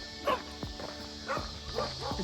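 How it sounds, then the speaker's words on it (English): Dogs bark in a few scattered bursts of yips and bow-wows, moderately distant, heard on a solo hike near Lake Red Rock against a steady background hiss. "I'm gonna get attacked by dogs."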